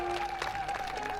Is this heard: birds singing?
no